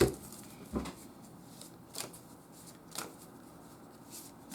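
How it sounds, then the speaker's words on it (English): Tarot cards from a Lunar Nomad deck being laid out one by one on a table, four or five soft, brief slaps and slides of card stock spaced about a second apart, close and quiet, with no one talking. "Let's lay some cards out."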